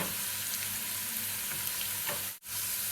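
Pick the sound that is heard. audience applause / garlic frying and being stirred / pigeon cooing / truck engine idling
garlic frying and being stirred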